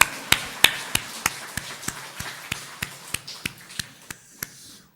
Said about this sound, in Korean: 우리 박수 치면서 축복합니다.